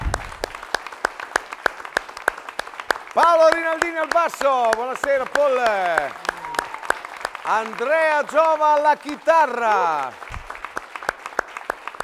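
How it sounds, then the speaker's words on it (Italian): Sparse rhythmic clapping from an orchestra's audience at a show runs under a man introducing the musicians by name over amplified speech. "vogliamo fare un grande applauso ai super musicisti, ai ragazzi della mia orchestra"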